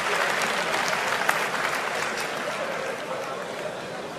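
An audience applauds at a canne de combat demonstration during a French boxing (savate) world championship, sustained dense clapping from a crowd, steady and fairly loud.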